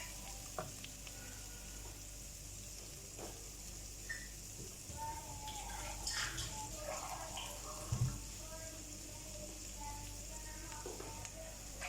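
Water poured into a pan of frying onions and spices for arvi salan brings a steady hiss and bubbling sizzle with a few clinks and stirs, close and quiet throughout.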